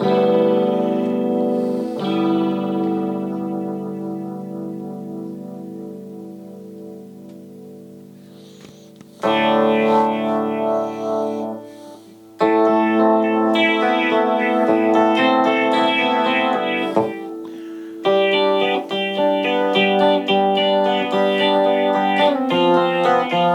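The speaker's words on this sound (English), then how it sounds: "I'm gonna turn this phaser on now." Electric guitar played through a DIY Stewmac Lightcycle Phaser II pedal kit, first a long sustained chord slowly swirling, then bright strummed chords in several bursts with a sweeping, whooshing phase shimmer, loud and without talk.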